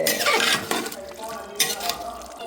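Biryani being stirred in a cooking pot: a steady, close scraping and shuffling of a spoon through the rice, with a few light metallic clinks against the pot rim.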